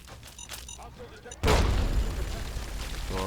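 A landmine blast in Fallout 3 arrives as a sudden loud boom after quieter game sounds, then a sustained rumbling roar that carries on to the end.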